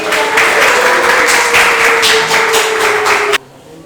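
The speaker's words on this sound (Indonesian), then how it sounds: "Beri tepuk tangan dulu, kita sambut Elvi." A classroom of students claps to welcome a classmate forward, a brief burst of fairly close clapping that stops sharply.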